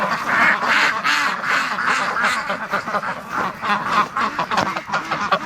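Breeding ducks in a pen quack steadily in a dense, overlapping chorus, loud and close, with a rhythmic pulse of calls throughout.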